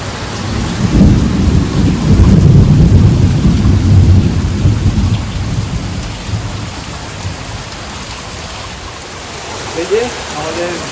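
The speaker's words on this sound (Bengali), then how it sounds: "সকাল থেকে মুষলধারে বৃষ্টি হচ্ছে, তুমুল বৃষ্টি হচ্ছে।" A heavy downpour with thunder, heard from a room's veranda. Loud rumbling thunder rolls over dense, steady rain for several seconds, then fades to a continuous hiss of rain on surfaces.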